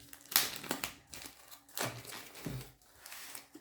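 Plastic packaging crinkles and crumples close up as a Mi power bank is unwrapped, in several short irregular bursts of rustling with brief pauses between them.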